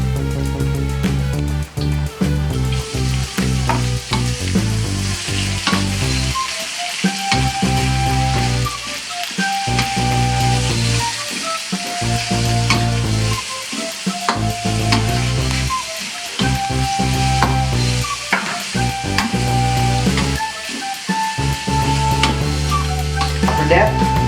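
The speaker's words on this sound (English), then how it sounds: "Put the onion into the pan." Onion sizzles steadily in a hot pan, a continuous close frying hiss with bursts of spatter, and a spatula scrapes and stirs at intervals throughout.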